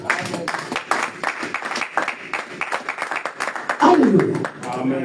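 A church congregation claps during a Sunday worship service, a scattered ripple of applause that builds to a louder burst near the end, mixed with voices calling out and talking throughout.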